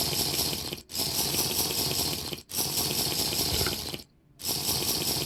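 Running water pours steadily in a video game as a water supply is topped off, a loud continuous rush broken by two brief gaps and a longer pause near the end, with no talking.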